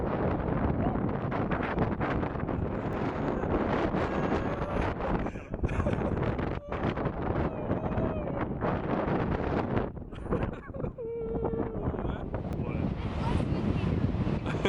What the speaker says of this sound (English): It is much less windy now.